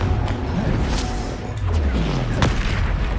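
The Confringo spell blasts in the Hogwarts Legacy video game as dense, rumbling booms and crashes over a constant loud game din, with brief impacts piling up close by.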